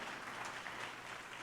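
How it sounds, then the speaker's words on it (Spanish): A church congregation claps together in a dense, steady wash of applause that fills the room, sustained without a break. "Palmas a nuestro Dios"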